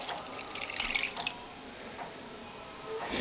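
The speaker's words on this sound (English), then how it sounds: "So I'm just going to add just a little bit of water." Tap water runs and splashes into a pot while beef soup is made for canning, forming a steady close trickle that briefly grows louder before settling.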